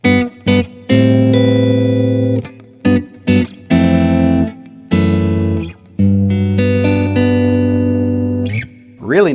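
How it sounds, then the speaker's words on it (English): Harley Benton electric guitar with its pickups in split-coil mode, choppy strummed chords separated by short silences, then longer ringing chords, loud and up close. "really nice sound out of those split coils"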